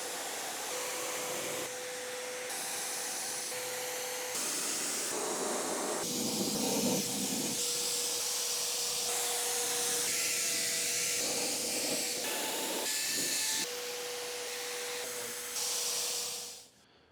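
A spray gun atomizes primer onto utility cabinets with a steady, loud hissing rush that lasts over fifteen seconds, broken by brief pauses and slight shifts in tone, then cuts off at the end.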